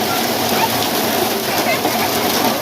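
Sudden heavy first monsoon rain in rural Konkan, a loud dense roar of downpour drumming on surfaces, steady and close, with people talking and laughing over it.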